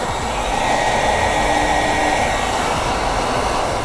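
A heat gun blows hot air over vinyl wrap along a body line on a 2010-2023 Lexus GX during a front chrome delete, a loud, steady, close rushing hum with no talking.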